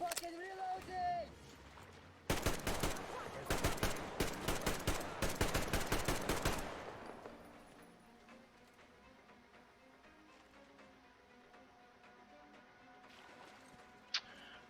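Rapid automatic gunfire bursts in the shooter game Metro Exodus, a dense loud volley of shots lasting several seconds, then fading into quieter ambience with a single sharp click near the end; a voice talks early on.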